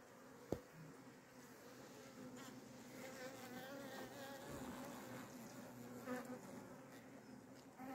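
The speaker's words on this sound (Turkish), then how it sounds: "Bu bir karnıyol arı." Steady Carniolan honeybee buzzing in winter fills the scene, a dense drone of many insects with occasional closer bees passing by, plus a sharp tap near the start.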